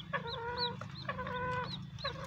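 A green junglefowl chick, handled in the hand, peeps in a run of short, high, bright chirps with brief gaps between them, close up and clear over faint background noise.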